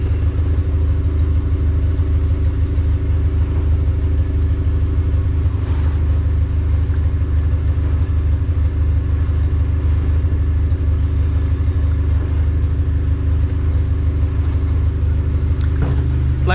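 A Honda Civic engine idles steadily during coolant burping, a loud, close, even rumble with a constant low hum running unbroken for the whole stretch.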